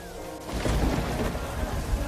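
Heavy rain pours down on a road at night in the cold, a dense, steady hiss of falling water with soft low rumbles, fairly quiet and continuous.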